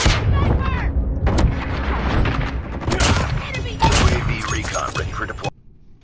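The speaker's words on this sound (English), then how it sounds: "I hear a bomb" A bomb goes off in a video game: heavy booming blasts and gunfire-like thuds come in bursts over a few seconds, with a player talking over the action.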